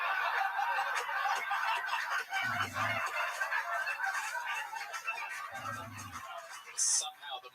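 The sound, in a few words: Jungle Bird sound effect button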